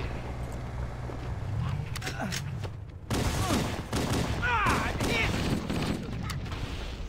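Weapons firing in Halo CE, a sharp burst of rapid shots that turns into sustained, dense fire midway through, loud and close, with a player speaking over the gunfire.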